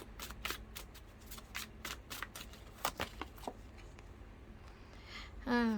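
Tarot cards are shuffled in a quick, rhythmic run of soft, faint, close riffling flicks that thin out toward the end, followed by a brief voice.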